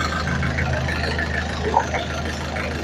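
A repaired engine idles steadily after an oil change, giving a continuous low, even rumble at moderate level with no talking.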